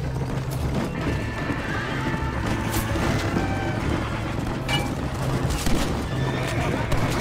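A horse whinnies clearly amid hoofbeats and a dense Red Dead Redemption game soundscape, with some muffled talk in the background.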